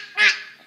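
A small child imitates a duck's quack with one short, bright, nasal call that swells and fades quickly, close and alone.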